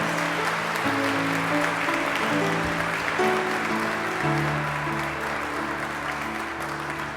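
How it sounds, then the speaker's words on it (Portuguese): Warm audience applause welcoming Davi Lucas at a presentation, steady dense clapping throughout with a sustained musical tone playing underneath. "Você pode receber o Davi Lucas com uma calorosíssima salva de palmas"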